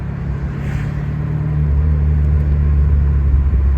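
A 1991 Alfa Romeo Spider Veloce roadster engine runs steadily with the top down, a deep, even low rumble heard from the cabin that swells slightly louder partway through.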